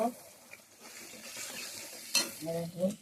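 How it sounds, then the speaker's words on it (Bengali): Spices frying in hot oil in a heated wok (kadai), a quiet sizzle with a few stirring scrapes and light clinks of utensil against metal, soft and close, with a brief sharp knock near the end. "তেল দিয়ে দিয়েছি, কড়াইটা গরম হয়ে গেছে, মশলাগুলো দিয়ে দিলাম"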